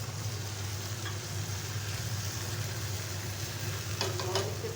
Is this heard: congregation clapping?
no